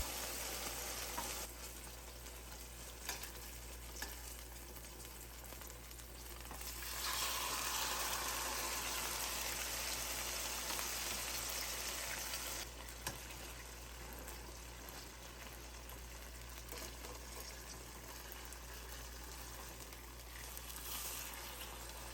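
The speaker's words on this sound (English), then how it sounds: "Remove the seitan from the marinade and place it in the frying pan." A steady, gentle sizzle of seitan frying in olive oil in a pan, soft and continuous, swelling briefly louder partway through with no voices.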